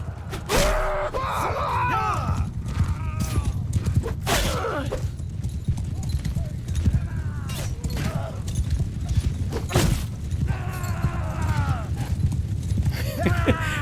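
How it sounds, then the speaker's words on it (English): Horses gallop across a battlefield in Mount & Blade II Bannerlord, their hoofbeats a steady, continuous rumble under scattered shouts, grunts and clashing noise. "I like the way the horses just run them over and the way they get back up."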